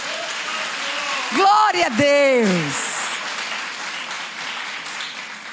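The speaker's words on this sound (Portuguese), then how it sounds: "Você pode aplaudir ao Senhor?" A congregation at a family worship service claps in praise. Steady broadband applause runs throughout, while a voice rises loudly over it midway with an exclamation.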